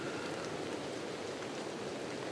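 Steady rain falls outdoors at foggy Loch Achray, a dense, even patter and hiss that continues without pause, fairly close and with no voices over it.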